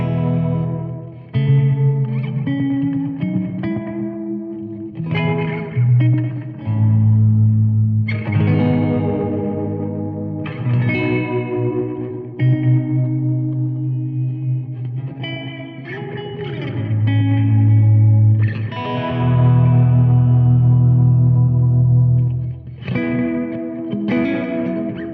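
Jazzmaster electric guitar played through a pedal board of effects, loud and close, with melodic phrases and held notes washed in distortion, chorus and echo.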